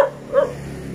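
A dog barks at Warung Ubud Raya, a restaurant, giving two short, fairly loud yaps close by, with a brief pause between them and a low background hum afterward.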